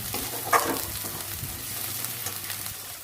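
Ground spices with turmeric and dried chilli powder frying in oil, a steady close-up sizzle with a brief louder spatter early on and soft stirring sounds throughout.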